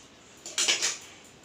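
Scissors cutting sleeve fabric for a tailored garment, a brief close crisp snipping burst of two or three quick cuts against a quiet background.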